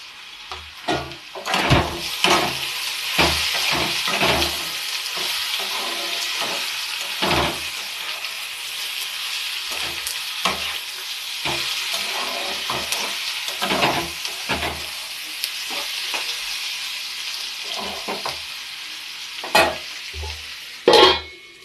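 Bottle gourd peel seasoned with salt and turmeric fries in a pan. A steady sizzle runs throughout, broken by repeated scraping stir strokes, with no talk.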